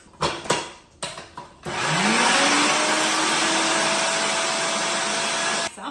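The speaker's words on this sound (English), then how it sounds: "And then we're just going to blend it all up and it should get nice and creamy and mayonnaise-y." A blender whirs homemade mayonnaise with Dijon mustard, a few short pulses first, then a loud, steady motor drone running for several seconds before cutting off.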